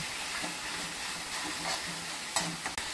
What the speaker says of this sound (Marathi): ते छानसं आपण 5 मिनिटं परतूया याला।